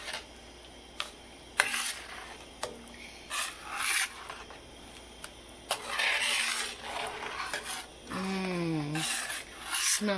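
Utensil rubbing and scraping against a pan while stirring a thickening chicken chilli sauce on medium-high heat, in intermittent rasping strokes with short pauses between them, close and moderately loud.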